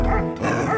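A cartoon dog yaps in a short burst of two quick, loud barks, sharp and close.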